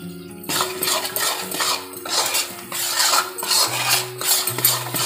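Semolina and a little wheat flour being roasted in a pan for halwa, with a spoon scraping and clinking against the pan in steady, close strokes and a faint background hum.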